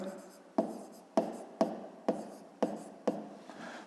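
Numbers being written by hand on paper, six sharp pen taps and strokes at a steady rhythm, each with a brief scratchy tail, close and quiet with no speech over it.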